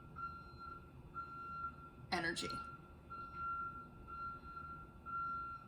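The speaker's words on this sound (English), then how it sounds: "We have this backing up alarm as confirmation." A reversing vehicle's backup alarm sounds as a faint, regular train of beeps in the distance under a voice, with a brief louder noise partway through.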